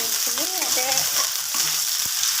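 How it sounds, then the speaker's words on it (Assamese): Onions frying in hot oil give a steady close hiss and crackle, with a faint voice murmuring under the sizzle. "এয়া তেল গৰম হৈছে বন্ধু বান্ধৱীসকল এয়া মই পিয়াজ দি দিছোঁ"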